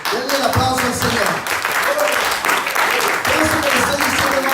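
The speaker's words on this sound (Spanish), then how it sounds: "Denle el aplauso al Señor" A church congregation applauds during a sermon, with dense clapping running steadily throughout while voices and singing-like tones sound over it.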